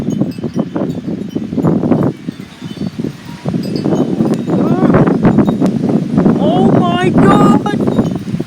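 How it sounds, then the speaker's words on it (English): Heavy wind roars and buffets the microphone in a constant loud rush as debris is blown around outdoors, while a man exclaims over it. "This wind is out of control."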